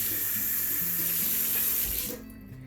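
Water poured from a tap into a bowl for oven steam while baking bread, a loud steady splashing stream that cuts off abruptly near the end.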